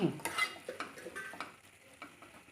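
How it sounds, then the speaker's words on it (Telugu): A spoon stirs a cabbage, potato and tomato curry seasoned with garam masala in a pan, giving soft scraping and light clinks at an uneven rhythm with faint sizzling underneath. Quiet and close, with no talking. "ఒక స్పూను వేసుకొని తిప్పుకొని"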